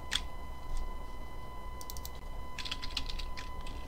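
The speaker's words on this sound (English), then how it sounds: "Probably why you guys don't like to watch me type." Fingers type on a computer keyboard, with quick bursts of key clicks in an irregular rhythm and short pauses between them.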